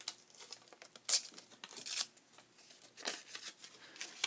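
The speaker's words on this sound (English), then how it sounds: "I'm just going to rip the doily." Quiet bursts of tearing and crinkling as a lace doily is ripped by hand, several short rips spread across a few seconds, close and soft with no talking.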